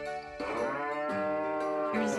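Cattle mooing in the farming game Harvest Moon: Tale of Two Towns, a loud sustained low moo followed by further overlapping calls, close and clear with no talking.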